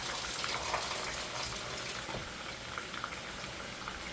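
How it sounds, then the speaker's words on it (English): Water draining out of a kitchen bowl, a steady, faint gushing and trickling wash that runs on without pause, no voices. "it still has water in it. Let me drain this."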